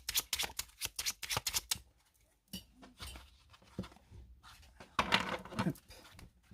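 Cards from a 32-card deck are shuffled and drawn, a quick run of crisp riffling flicks, then a pause and softer scattered card slides and taps close by.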